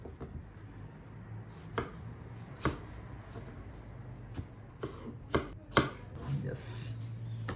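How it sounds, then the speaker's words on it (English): Knife cutting a cucumber on a board for a spicy shrimp sushi roll, a series of about eight sharp chopping taps at uneven intervals, close and clear with no talk. "Cucumber is also ready. I'm gonna cut in half."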